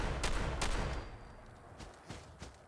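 USAS-12 automatic shotgun firing frag rounds in Fallout 4, two sharp blasts close together up front followed by fainter distant explosions and thuds as the rounds detonate.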